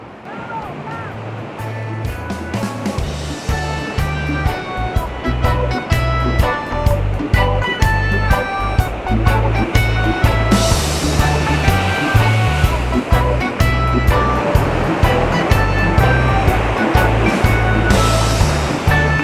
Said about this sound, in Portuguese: Muito forte as ondas aqui. O mar muito agitado. Olha a porrada da onda na pedra.